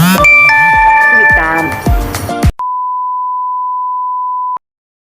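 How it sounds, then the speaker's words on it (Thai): A phone notification tone sounds during a Thai birthday vlog, a single sustained electronic beep of about two seconds, loud and alone, right after a burst of music that cuts off. "ขอโทษกับการแจ้งเตือนด้วยครับ"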